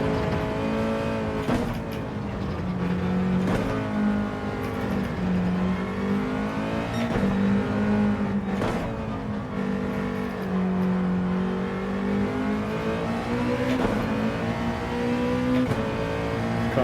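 A race car engine in Gran Turismo 7 revs and shifts continuously, its pitch climbing and dropping through gear changes at close range for the whole stretch, loud and alone with no voices.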